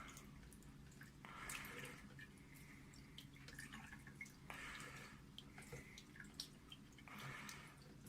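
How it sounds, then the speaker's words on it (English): Water poured over a SkyWatcher 300P 12-inch Flextube Dobsonian telescope mirror sitting in a sink, heard as several separate splashing, gushing bursts with quiet dripping gaps between them. "pouring water over it."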